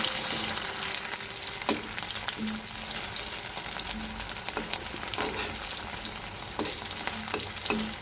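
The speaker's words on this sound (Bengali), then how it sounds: "এটা একটু ভাজা হোক, ভাজা হলে মশলা দিয়ে কষাবো।" Taro root frying in a pan before spices are added, giving a steady close sizzle with occasional stirring scrapes throughout, no voices.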